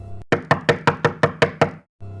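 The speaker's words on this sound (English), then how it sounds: "the police came to his house, knocked on his door" Eight sharp, evenly spaced knocks on a house door, loud and close, each with a short ring-out, followed by a brief pause as a low background hum returns.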